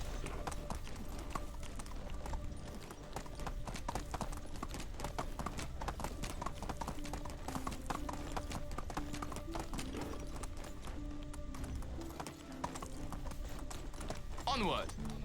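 Horse hooves gallop in the video game Medieval Dynasty, producing a fast, steady clip-clop rhythm close up, with a voice talking over it at times.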